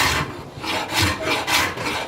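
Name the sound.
hand carving wood, roughing out a shape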